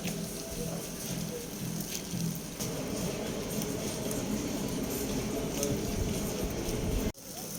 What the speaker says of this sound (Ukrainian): Все ж таки насунули хмарки і пустився дощик.